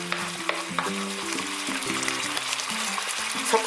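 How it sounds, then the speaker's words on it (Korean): A sweet soy-style sauce for thin-sliced pork bulgogi boils and sizzles steadily in a pan, with a spoon clinking and stirring through it. "이 소스를 끓여주세요."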